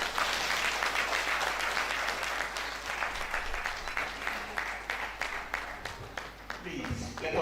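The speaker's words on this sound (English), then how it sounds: "Please, a round of applause for our Vice Chancellor, please." Dense, sustained applause from a large audience at a university convocation ceremony honouring the Vice Chancellor, steady and full for several seconds before slowly thinning.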